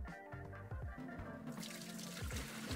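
Water tipped from a tank into a sink during film rinsing, a steady pouring and splashing stream that grows brighter and fuller halfway through, close and continuous with no talk.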